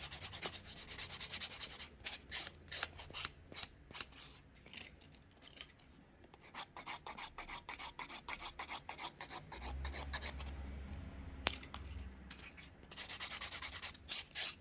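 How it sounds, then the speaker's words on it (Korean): A sanding buffer files over gel nail tips in a steady run of quick, close scratchy rasping strokes, continuing alone with only brief pauses. "자, 전체적으로 샌딩 버퍼 해주시고"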